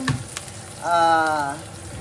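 Meat and chili sautéing for pinapaitan sizzle in a pan, with a brief louder burst of frying in the middle, close and steady, no talking.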